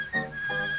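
Short whistled tune from the Steamboat Willie cartoon used in the Disney logo, a clear, close, thin tone that holds steady with a brief rise and dip in pitch, heard alone.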